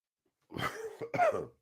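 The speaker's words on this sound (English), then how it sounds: "Sorry, folks, for the coughing." A person coughs twice in quick succession, close and fairly loud, with a brief pause between the two hacking bursts.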